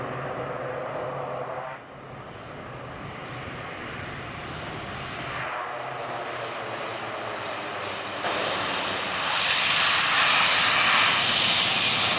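A small propeller airplane touching down in a bouncy landing after an engine bird strike, its engine droning steadily with a dip and a rise in roar, loud and close throughout.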